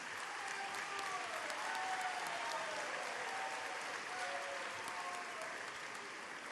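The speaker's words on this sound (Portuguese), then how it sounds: "Rui Falcão, a quem peço uma salva de palmas." Steady applause from a crowd at a political event in Brazil, continuous and even, with a few voices faintly calling out underneath.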